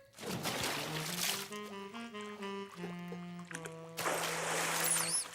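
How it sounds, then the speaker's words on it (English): Water splashes and pours at bath time in the Caillou cartoon, bright sloshing bursts at the start and end with a gentle musical score carrying through the middle. "Caillou discovered that bath time could be splash time."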